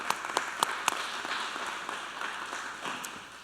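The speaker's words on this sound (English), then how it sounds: "If you all would join me in applauding these folks," Audience applause at a school board meeting, a few sharp claps at the start that blend into a steady, moderate patter of clapping from a modest crowd in a hall.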